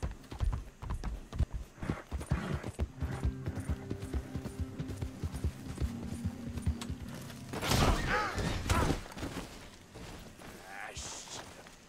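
Horse hooves clip-clop at a steady walk in the Red Dead Redemption 2 video game, close and rhythmic, with a louder burst of hoof and gear noise near the end.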